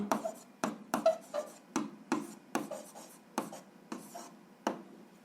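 A pen scratches across paper as an answer is written out for a seventh-grade algebra exercise, in about a dozen quick, evenly spaced strokes, close and dry, with no voices.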